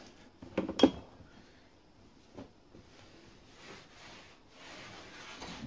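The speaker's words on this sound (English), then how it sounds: "It's a little bit wet here, so I'm just going to make sure I dry it out." A cloth rubs a wet shower tray dry during silicone sealant replacement, making soft, intermittent wiping and rubbing strokes with a few louder scuffs early on, fairly quiet overall.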